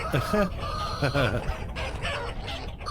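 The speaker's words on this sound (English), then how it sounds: "Holy moly, have we got a lot of hens laying eggs" Hens cluck and a rooster crows on a video game farm, with repeated rhythmic cackles layered over steady busy game background sound.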